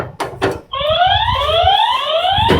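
An electronic alarm goes off indoors, a loud rising multi-tone siren sweep that repeats steadily after a couple of thumps, continuing to the end.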